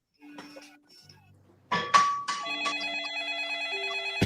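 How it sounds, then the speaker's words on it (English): A telephone rings with a bright electronic bell tone, sounding in repeated tonal bursts that sustain and overlap; softer beeps and low tones precede the ringing, and nobody speaks. "A phone call."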